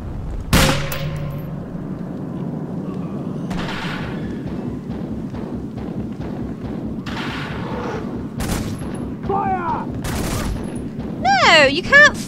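Gunfire in the Velvet Assassin video game cracks out in several sharp separate shots and short bursts, loud and close, with someone talking between and over them.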